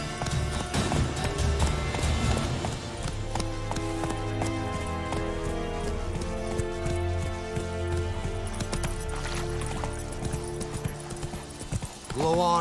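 Roach, the horse in The Witcher 3, galloping in a steady clip-clop rhythm beneath a continuous orchestral game score, with a voice briefly urging the horse on.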